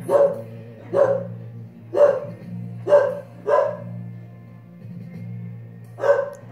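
A dog barks repeatedly, six sharp barks at roughly one-second intervals with a short pause before the last, over a low steady hum.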